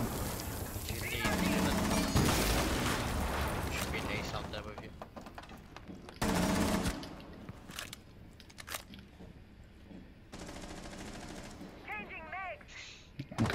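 Gunfire from the operator Nomad in Rainbow Six Siege, shot through a narrow window opening; repeated loud bursts of shots come in clusters amid game noise, with people talking throughout.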